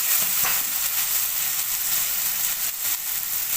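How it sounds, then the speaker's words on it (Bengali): Spice paste for tilapia fish curry frying in a pan just after a splash of water, a loud, dense, continuous sizzling hiss close up with faint stirring scrapes underneath. "জল দিয়ে দেবো, মশলাটা একটু পুড়ে না যায়, একটু জল দিয়ে দিলাম"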